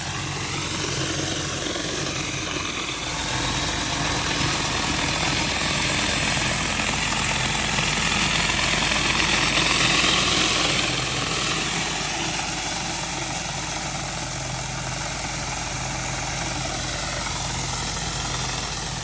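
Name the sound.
pressure washer surface cleaner on asphalt driveway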